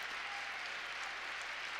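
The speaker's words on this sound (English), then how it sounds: "And the crowd applauds as Jackson Salvala," A basketball arena crowd at a Michigan Wolverines versus Nebraska Cornhuskers men's game applauds steadily for a senior walk-on, a dense, even wash of clapping that fills the whole moment without a break.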